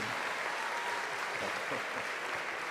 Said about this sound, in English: So please, a round of applause for Adam.